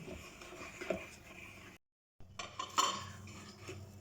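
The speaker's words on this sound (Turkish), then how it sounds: "Geri kalan unumu da ilave ettim. Toplam 4 su bardağı un kullanmış oldum. Karıştırıyorum." Cake batter with flour is stirred in a bowl for a fruit and spinach cream cake, a spoon scraping and clinking against the bowl in close, uneven strokes, with a short silent gap midway.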